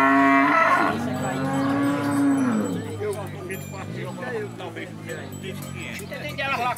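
Cattle at a livestock fair in Afogados da Ingazeira, Brazil, let out one long, loud moo close by, followed by people talking over a busy market murmur.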